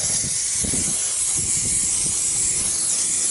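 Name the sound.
brake cleaner spraying on Ford Ranger parts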